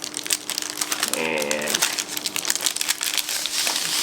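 Plastic wrapping crinkles and rustles as it is peeled off a new Satechi compact backlit keyboard, a close, busy crackling throughout with a short stretch of speech partway through.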